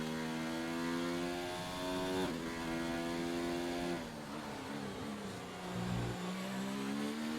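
F1 race car engines from the game F1 2019 whine at high revs, their pitch climbing through gear shifts and then dropping sharply under braking before rising again, steady and prominent with no talking.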